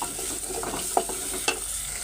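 Chili paste and ginger-garlic paste sauté in a pan for a fish curry, giving a close, steady sizzle with stirring scrapes and two sharp spatula knocks.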